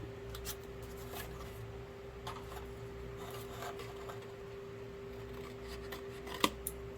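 Scissors snipping off the corners of a paper box, faint quiet cuts with a few soft clicks over a low steady background hum.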